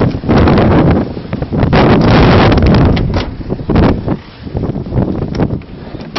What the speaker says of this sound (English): Oh god, it's windy, I can't open the door.